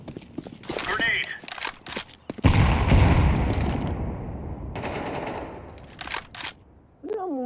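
A grenade blast and gunfire from a professional Counter-Strike match: scattered sharp shots, then a heavy booming explosion that rumbles and fades before more bursts of fire, with commentators' voices talking throughout.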